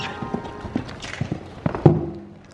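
Horse hooves clip-clop in an uneven run of hits during a horse race, close and fairly loud, with no voices over them.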